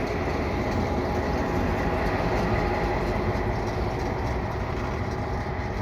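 A Herzog maintenance of way rail vehicle passes close by at Dorval with a loud, continuous rumble and wheel noise on the rails, holding steady throughout with no talking.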